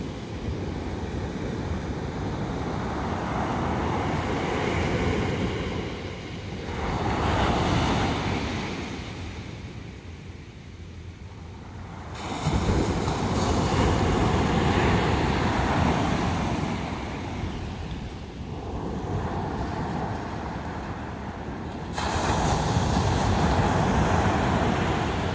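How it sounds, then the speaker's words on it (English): Ocean waves roll in at sunrise, surf swelling and crashing in repeated sets with steady wind rush across the microphone, loud and close throughout with no talking. "Check out these waves coming in."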